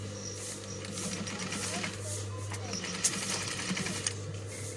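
A sewing machine stitching the collar of a full-flare gown runs in a steady low mechanical hum with a fast rapid needle rhythm, close by, with faint background noise and occasional soft clicks.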